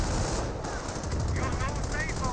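A machine gun emplacement in the Company of Heroes strategy game fires rapid bursts against a dense battle din, with a commentator talking over the gunfire.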